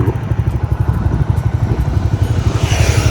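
A motorcycle engine runs nearby with a steady, rapid thumping pulse, loud and continuous throughout.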